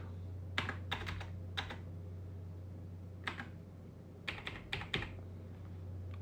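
Keys tapped on a computer keyboard while entering tax form details such as a zip code, in scattered short bursts of clicks over a steady low electrical hum, close and fairly quiet, with no talking.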